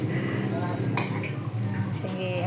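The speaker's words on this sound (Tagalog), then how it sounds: "Sige, haluin mo yan." Fish and pechay stirred in a cooking pan, with steady utensil scraping and a sharp clink of metal against the pan over a faint sizzle, while voices murmur in the background.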